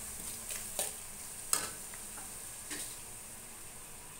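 A steady, quiet sizzle of spices in hot oil, with a few faint clicks of a spoon against the pan.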